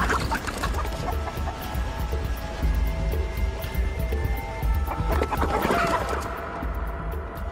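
A chicken clucks repeatedly through a dense, busy action-film soundtrack, carried as a gift in a Turkish-dubbed pandemic thriller scene. Steady background noise and score stay loud throughout.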